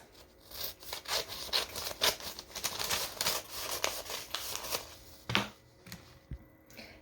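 Scissors cut folded paper strips: a close, rhythmic run of rasping snips and rustles, fairly quiet and without speech.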